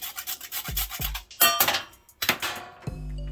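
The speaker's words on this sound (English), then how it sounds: "I'm gonna grate some nutmeg right into this" Nutmeg is grated over a peach cobbler, with rough rasping strokes against a metal grater, a few sharp clanks and knocks in between, close and fairly loud, and no talking.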